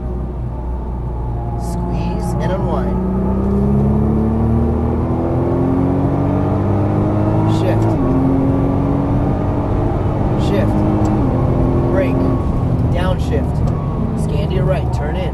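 Nissan GT-R engine on a race track at Las Vegas Motor Speedway, a loud, steady interior drone rising and falling in pitch through throttle and gear changes, with an instructor's voice talking over it throughout.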